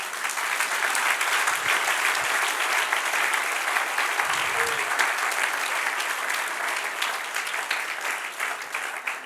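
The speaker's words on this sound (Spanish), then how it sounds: "Denle un aplauso al que reina" A church congregation applauds during a sermon, sustained even clapping filling the room for several seconds with little variation.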